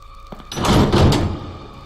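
A door opening in a video game, a single muffled thudding clunk with a short rattling tail, close and clear with no voices over it.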